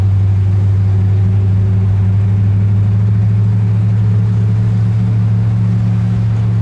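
A 1965 Imperial Crown Convertible cruising along, its engine a loud, steady low drone with a constant rumble that never changes pace throughout, heard from inside the car with no voices.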